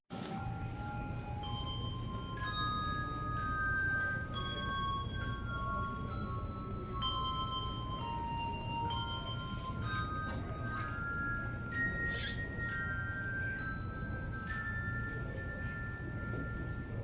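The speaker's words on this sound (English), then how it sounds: "They had a bell choir, or bell group, whatever they're called" A handbell choir plays at a carol event, ringing clear sustained bell tones one after another in a slow melodic line, with occasional overlapping chords over a steady murmur of audience noise in a reverberant room.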